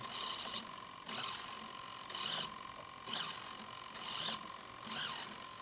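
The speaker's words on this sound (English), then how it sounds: "Now if I move the throttle, you'll see the servo arm moving" The throttle servo on an NE39 NexStar engine setup whirs in short mechanical bursts as the arm sweeps back and forth, about six evenly spaced buzzes close up with quiet gaps between them and a faint steady hum underneath.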